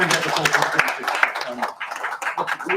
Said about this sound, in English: Should we have a quick round of applause, Camilla?